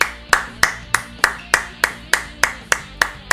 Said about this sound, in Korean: 아 쿨잼님께 박수 한 번씩 부탁드립니다